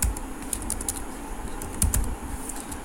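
Fingers tapping on a computer keyboard to enter text into a spreadsheet form, a quick irregular run of close, crisp key clicks with a few louder strikes.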